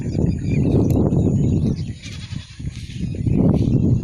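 Goats bleat loudly and close by in a rural area beside a pond, repeated wavering cries overlapping one another, with brief quieter gaps between bursts.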